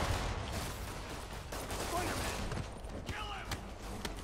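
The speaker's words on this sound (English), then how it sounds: "Freaking gunshots." Bursts of gunfire crackle through a dense, noisy Marvel's Spider-Man game soundscape, with a few sharper shots standing out near the end over faint voices.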